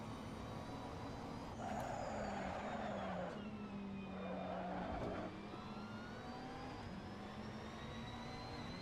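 GT3 race cars in Assetto Corsa at Albert Park, with a sustained engine drone and shifting tonal whine from nearby cars plus louder surges of engine noise, no talking.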